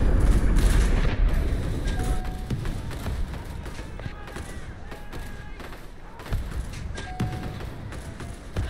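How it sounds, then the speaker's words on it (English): Grenade explosion in the Centaura first-person shooter game, a loud booming blast at the start that rolls into sustained rumbling battle noise with scattered gunfire-like pops. "Oh, I've just been blown up by a grenade."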